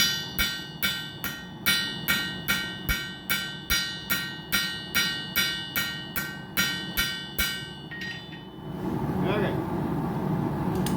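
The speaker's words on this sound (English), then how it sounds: "I'm gonna get the forge going and we'll start hammering." Steady metallic hammer strikes on titanium at a forge ring out about twice a second, a long regular series of loud clangs, then stop as a rushing forge roar takes over.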